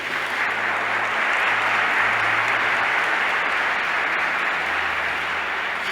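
A church congregation claps together in sustained applause for God during a Portuguese-language sermon, a dense even wash of hands lasting about six seconds at steady loudness.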